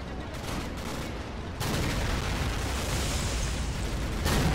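Continuous gunfire and explosions in Action Stations 2 during a supply line defence battle, a dense, loud barrage of rapid shots and booms that swells louder partway through and keeps rolling without a break.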